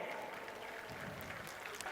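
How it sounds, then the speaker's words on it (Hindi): Loud, steady applause from a crowd at a government ceremony where job appointment letters are handed out, a dense continuous clatter of clapping lasting throughout. "जोरदार जोरदार तालियां"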